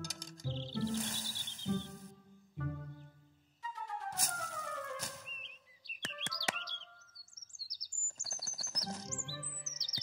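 Cartoon bird chirping in rapid bursts of high, bright tweets and whistled trills, close and loud, set among other cartoon sound effects and tones.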